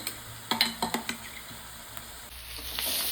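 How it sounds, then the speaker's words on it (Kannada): Green chillies frying in a pan, a soft steady sizzle with a few sharp stirring scrapes and clinks near the start, growing a little brighter and louder toward the end. "ನೋಡಿರಿ ಹಸಿ ಮೆಣಸಿನ್ಕಾಯಿನೂ ಚಂದಾಗ ಇದ್ರೊಳಗೆ ಫ್ರೈ ಆಗೈತಿ"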